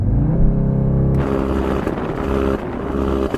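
An Audi TTS engine revs loud and close, a sustained roar that drops abruptly partway through into a rougher, crackling, lower burble.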